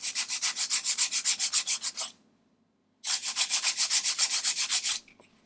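Rhythmic back-and-forth rasping of sandpaper straightening the edge of a wooden ship-model part, a steady run of strokes, a brief pause, then another even series of strokes, close and clear.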